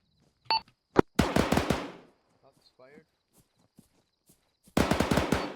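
Gunfire across a bay in the military video game Arma 3: a few sharp, distant shots and scattered pops, with people talking over them in bursts.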